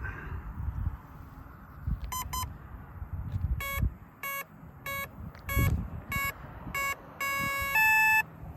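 An electronic speed controller in a 64mm Flyfans L-39 RC jet on 6S power emits a series of short, evenly spaced electronic beeps, with a longer final tone over a faint background hiss.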